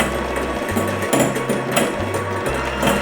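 An electric mixer whirs steadily as it beats egg whites with sugar for banana pudding, a close mechanical hum with a regular pulsing rhythm.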